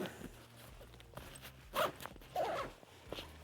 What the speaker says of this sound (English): Zip that one back up.